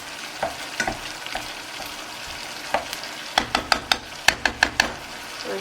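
Mince frying in a pan with a sizzle, while a meat masher breaks it up in a series of sharp, close knocks that come in a quick run toward the end.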